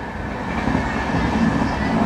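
A superfast train on the Mancherial to Secunderabad line runs through Peddampet station without stopping, giving a steady, loud rumble with rolling rattles throughout.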